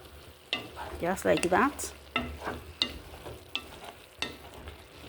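Vegetables cooked slowly over low heat are stirred in a pan, with repeated scraping strokes and clacks over a quiet sizzle; a voice speaks briefly at one point.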